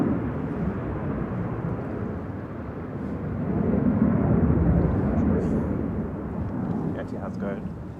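An Airbus A380 performs a go-around in gusty wind at Manchester Airport, a broad low jet roar that swells in the middle and then eases, heard from a distance with faint voices nearby.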